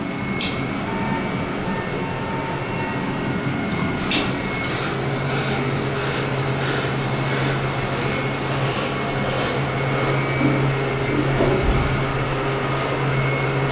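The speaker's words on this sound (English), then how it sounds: "Just your basic stainless steel service elevator." Steady mechanical hum of a stainless steel ThyssenKrupp hydraulic service elevator running, a continuous low drone with a faint tonal whine and light rattles throughout, fairly close and unbroken.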